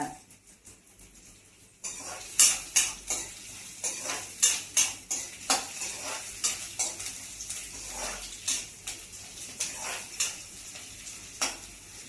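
Onions sizzle and fry in a pan for rawa upma, with a steady hiss broken by repeated close clinks and scrapes of a spoon stirring against the pan.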